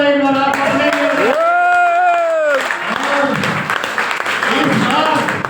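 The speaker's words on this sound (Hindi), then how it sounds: "तालियां बजाएं एक बार" A seminar audience in Rishikesh breaks into scattered clapping that swells into a broad, steady round of applause after a voice rings out loudly over the hall.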